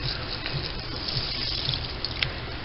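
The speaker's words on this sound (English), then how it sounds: "I'm going to put some water." Water pours steadily into a cooking pan holding onion soup mix and brown gravy for cube steak, a continuous close splashing trickle with no talking.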